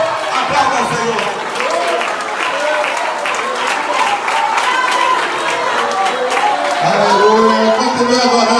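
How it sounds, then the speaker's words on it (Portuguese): Congregation applauding steadily during a church worship service, a dense, sustained wash of clapping with a preacher's voice calling out over it throughout. "Aplauda o Senhor."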